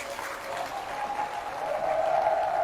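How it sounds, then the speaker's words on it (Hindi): Audience at a Hindi religious discourse in Navadvip claps steadily, a soft, fairly distant wash of applause that swells slightly toward the end. "इसके लिए उनके लिए भी आप ताली बजाइए।"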